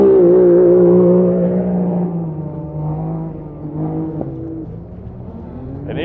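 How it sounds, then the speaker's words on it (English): A Can-Am Maverick X3 off-road racer pulls away from the start line of an off-road desert race, its engine a loud, steady drone whose pitch slowly sinks as it moves off into the distance. "Next off the start line, a 665. That is Kane Knowles from Western Australia in his Can-Am Maverick X3."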